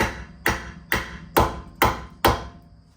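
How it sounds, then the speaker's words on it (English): Six sharp metallic hammer strikes on a rusty rear brake caliper of a 2006-2012 Ford Fusion, evenly spaced about half a second apart, close and ringing briefly after each blow. "So what we're going to do is hammer smack it."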